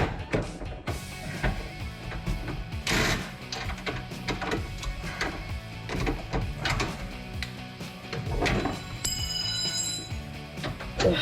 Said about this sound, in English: Now let's get our impact wrench back on here.